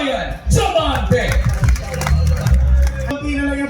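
An audience at Barako Fest 2024 claps and cheers for Mr. John Ryan Diamante, a loud, sustained crowd roar with whoops and shouts mixed in and voices speaking through it.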